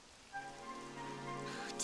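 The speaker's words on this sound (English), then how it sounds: "It's raining." Steady rain pattering in Dragon Quest 11, a soft continuous hiss with faint tonal game music threads running beneath it, brightening near the end.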